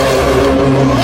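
A Ferrari 6.5-liter V12 screams at very high RPM, a loud, sustained, tightly harmonic wail that holds steady for about a second with no talk.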